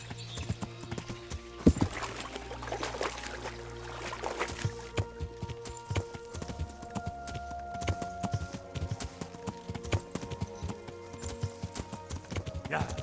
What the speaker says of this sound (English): O cavalo desce pulando.